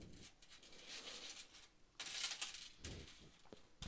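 Coins, pennies and a nickel, are shuffled and rubbed together during a search, a close, quiet clinking and sliding that swells partway through with no voices.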